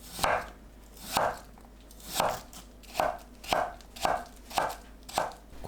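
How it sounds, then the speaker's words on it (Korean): A knife julienning yam on a cutting board for a chicken breast and yam salad, making about eight evenly spaced crisp chopping thuds, close and clear with no talk. "마를 채 썰어줍니다."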